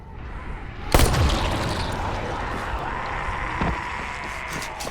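A single explosion in a video game, a sudden loud boom that rumbles and fades into a sustained roar of noise.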